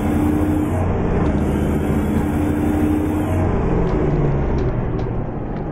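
In American Truck Simulator, a truck's engine holds a dense, steady rumbling roar as it accelerates, loud and close throughout, with no voices.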